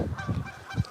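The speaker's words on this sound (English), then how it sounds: "I see the geese flying here making sounds." Geese flying overhead during an outdoor walk give three loud, close honks at a roughly even pace, with a faint breezy background.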